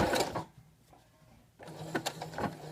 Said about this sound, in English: When you're sewing with stretchy fabrics, it's really good to do a zigzag stitch